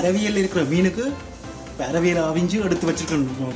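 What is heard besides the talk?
None of the usual background noises is heard.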